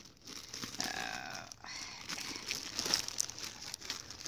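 Plastic wrapping crinkles in short bursts as a Christmas present is unwrapped, a crisp rustling close by and moderately quiet, with brief pauses between handfuls.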